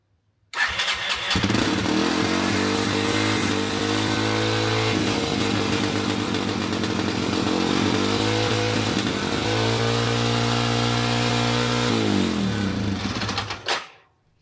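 An old trail bike engine starts with a sudden loud burst and runs steadily and close by, its revs rising and falling in a few surges before it cuts off near the end.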